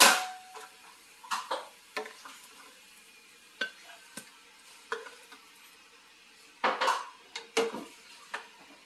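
Homemade Korean sweet glutinous-rice hotteok pancakes from a boxed mix being moved from the pan onto a plate, with sharp scattered clinks and scrapes of utensils on cookware against faint sizzling, quiet and close.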